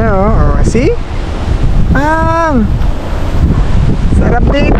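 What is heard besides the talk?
strong wind near windmills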